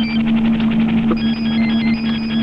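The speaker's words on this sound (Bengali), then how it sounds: "আরে দেখ না ফোনটা কার।" A telephone rings steadily and loudly throughout, a continuous electronic ring over a constant hum, with a brief faint knock partway through and no talk.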